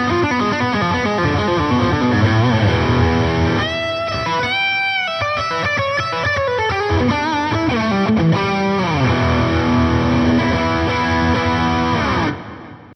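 Heavily distorted electric guitar from a Boss GT-1000 feeding the power amp input of a Mark II Boss Katana, playing dense riffs and chords loud and continuous, with a short dip midway and a sudden stop at the end.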